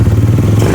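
A Smash 116 motorcycle engine runs after CDI rewiring, a loud, close, steady idle with a low rumbling beat and light mechanical clatter.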